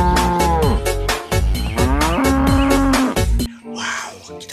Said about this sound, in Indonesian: di sini ada hewan sapi.